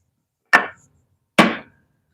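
Clamp being fastened to a desk for cutting wood: two separate sharp knocks about a second apart, each a short bright clack with a quick decay, close and alone.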